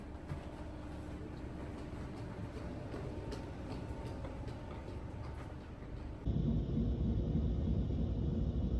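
A passenger train runs along with a steady low rumble and faint rhythmic clicking, heard from inside the carriage, growing abruptly louder and deeper near the end.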